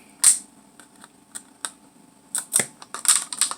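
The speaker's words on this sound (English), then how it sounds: "I can get the scissors through the little slit and cut my next ring" Several sharp scissor snips, close and crisp, cut rings from a plastic water bottle in uneven bursts with brief quiet gaps between cuts.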